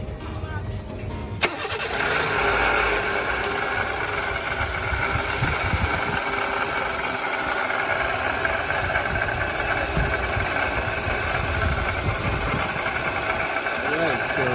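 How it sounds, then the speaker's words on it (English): A car engine cranks and catches near the start, then runs steadily with a persistent abnormal mechanical noise layered over a broad, continuous engine roar that stays loud to the end. "let's hear the noise it's making and we can make an assumption as to what's going on and do the diagnostic for the vehicle"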